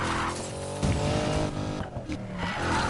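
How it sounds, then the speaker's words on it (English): Chevrolet Corvette power-drifting in Need for Speed Payback, a continuous loud roaring engine with screeching tires and skidding, dense game audio throughout with a brief dip near the end. "Huge drift around there, power drift"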